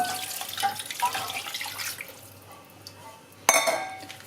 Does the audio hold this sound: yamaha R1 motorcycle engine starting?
no